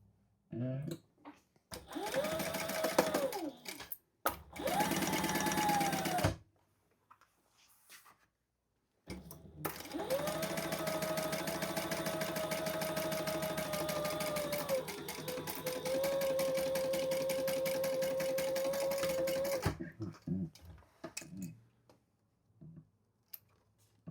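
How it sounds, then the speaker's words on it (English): Domestic sewing machine stitching a lining seam at the pattern's seam allowance while making a crossbody bag, running in short bursts with a steady motor whine, then one long continuous run, close and fairly loud. "We're going to sew that together at the seam allowance in the pattern, which is different, so keep that in mind."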